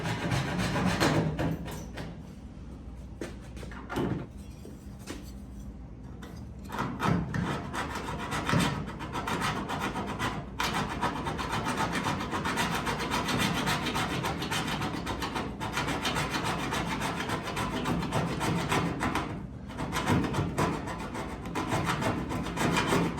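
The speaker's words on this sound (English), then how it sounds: "the edges I'm sawing on, we're going to sand all that filler off anyway" Rough, continuous rasping of a Sawzall blade cutting through the edges of body filler on a car body panel, loud and close, with brief pauses in the strokes.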